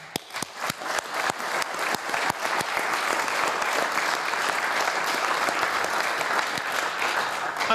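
A seated audience at a Scottish constitutional commission event on broadcasting breaks into sustained applause, dense steady clapping from a sizable crowd that starts with a few distinct claps and builds to a full wash.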